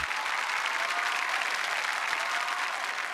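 Studio audience at a Marathi comedy talk show breaking into loud, sustained applause, an even wash of many clapping hands with no pauses, close and full throughout.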